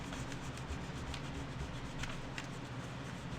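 Wooden earring pieces are rubbed by hand to spread Elmer's glue, making a faint, close, steady dry rubbing and brushing texture with a few light ticks and no talking.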